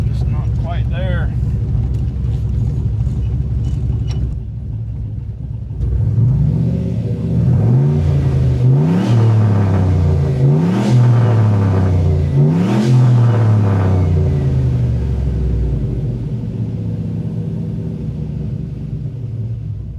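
A car with a newly installed 6.2 engine idles with a deep rumble, then revs up repeatedly in several rising and falling pulls, loud and close, before settling back to a steady drone.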